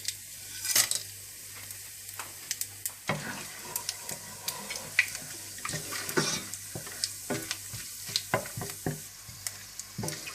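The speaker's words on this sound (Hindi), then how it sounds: "आप इसी तेल में सारे खड़े मसाले डाल दें और इन मसालों को थोड़ा सा भून लें।" Whole spices sizzling in hot oil left from frying onions, a crackling hiss broken by frequent sharp pops, taps and scraping stirs of a spoon, close and busy.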